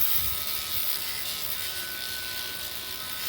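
An abrasive wheel sands paint and rust off primed metal, producing a continuous close, loud, hissing, buzzing grind at an even pitch without pause.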